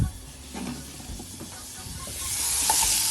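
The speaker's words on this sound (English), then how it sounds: "add these ingredients for a pan sauce: some butter, a little oil, the apples, the scallion whites, and salt and pepper" Butter, a little oil, apples and scallion whites hiss and sizzle in a hot pan for a pan sauce, a steady frying crackle that swells louder toward the end.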